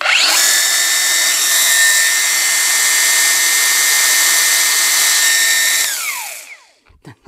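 A new angle grinder runs with a steady piercing whine from something squeaking inside for several seconds, then winds down and stops, leaving a few faint knocks.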